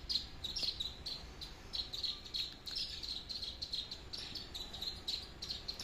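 A mother sparrow calling fledglings out of the nest: rapid, repeated high chirps in clustered bursts, fairly close over a soft steady background with insect-like hum.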